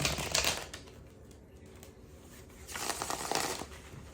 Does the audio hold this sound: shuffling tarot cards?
yes